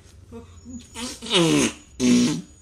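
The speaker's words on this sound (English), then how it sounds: "Did I just fart it?" A cartoon fart sound effect blasts out in a few loud, buzzy, pitch-bending bursts, growing louder over a couple of seconds.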